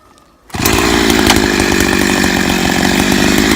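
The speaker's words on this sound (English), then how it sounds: "So, got a chainsaw." After a moment of near quiet, a warmed-up chainsaw for felling a tree bursts into a loud, steady buzzing whine that continues close and unbroken.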